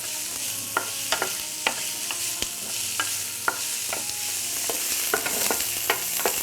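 Chopped onion and three finely chopped garlic cloves sauteing in a pan, a steady close sizzle broken by frequent sharp stirring taps and scrapes, with no talking.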